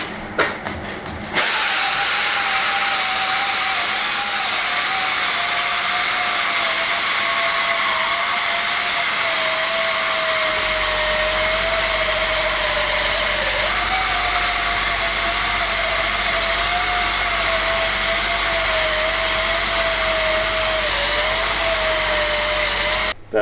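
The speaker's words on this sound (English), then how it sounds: "Where's my sander?" An electric sander runs steadily throughout floor tile restoration in a Spanish farmhouse kitchen, a loud continuous whine with a slowly wavering pitch after a brief start, a low hum added partway through.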